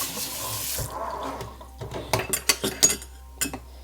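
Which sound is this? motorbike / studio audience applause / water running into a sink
water running into a sink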